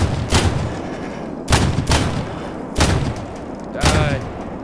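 Gunfire in S.T.A.L.K.E.R. Gamma: four loud, booming shots spaced roughly a second apart, each with a sharp crack and a short rumbling tail, heard alone.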